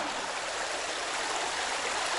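A river flows past a wooded autumn hiking spot with a steady, even rush of water, moderately loud and continuous, with no voices.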